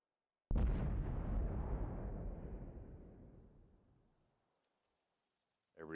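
A single heavy tank cannon blast from a World of Tanks match, loud and booming, its rumble fading slowly over about four seconds into silence.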